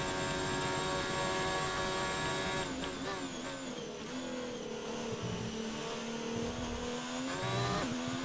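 Race car engine at full throttle in a racing video game, loud and steady, its pitch dipping and climbing through gear changes and corners over several seconds with no talk.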